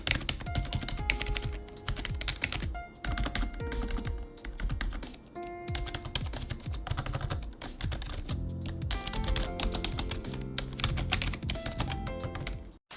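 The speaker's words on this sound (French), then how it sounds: "je vais tapoter sur le clavier, histoire de vous faire entendre les bruits que vous pouvez avoir en utilisant ce clavier au quotidien" Fingers tapping steadily on a computer keyboard at close range, a dense run of clicky keystrokes with brief pauses between bursts, loud and alone with no talking.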